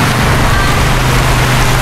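Steady rain falls in Barangay Calabasa, Labo, a dense continuous hiss close by with a low rumble underneath and no voices.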